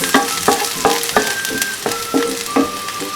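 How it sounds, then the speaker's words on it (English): Minced garlic frying in a pan, a loud close sizzle broken by regular clinks and scrapes of a utensil stirring against the metal, about eight strokes in quick rhythm. "minced garlic, fry for about 2 minutes"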